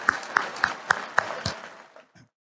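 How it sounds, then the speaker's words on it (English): An audience at an Engineers Week event gives a thin round of applause: about six distinct, evenly spaced claps stand out, then fade to quiet with one last soft pat. "Let's give them another round of applause, please."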